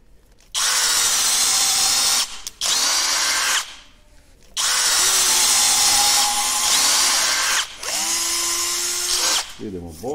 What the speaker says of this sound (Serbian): Idemo prvo Performance pa Bosch, Performance pa Bosch, po 3 rupe, stepen za bušenje